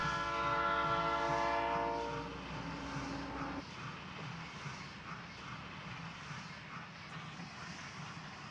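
An EMD GP-9 model railroad engine hauls a special fan trip passenger train past an interlocking tower, with a loud, sustained horn-like tone at first, then steady rolling rumble fading slightly as it passes.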